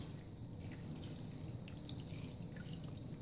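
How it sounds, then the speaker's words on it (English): Canned chicken broth pours into a cooking pot as a quiet, steady liquid trickle with faint dripping over the whole stretch, and no voices. "then you're gonna add your chicken broth"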